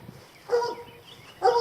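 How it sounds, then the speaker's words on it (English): An ornery old dog gives two short, separate barks about a second apart, fairly close and clear, over quiet outdoor background on a spring day. "There's my ornery old dog."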